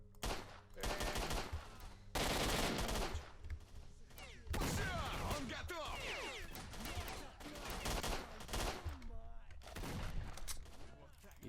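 Automatic AK rifle gunfire in STALKER: Shadow of Chernobyl, with loud, close bursts of rapid shots and brief pauses between them, under a busy mix of game sounds.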